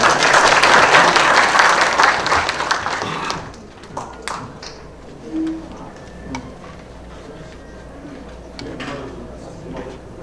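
Audience at a museum concert in Pocheon applauds to welcome a speaker, a dense burst of clapping for about three seconds that fades into scattered taps and quiet room noise.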